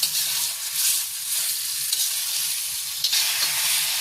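Yogurt being stirred into potato curry frying in a pan, with a steady sizzle and repeated scraping stir strokes, close and continuous, no talking.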